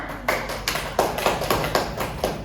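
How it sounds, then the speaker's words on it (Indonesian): A classroom group claps together in a steady, rhythmic pattern, with about eight crisp, evenly spaced bursts of clapping heard close and fairly loud. "Berikan aplaus untuk Iqbal"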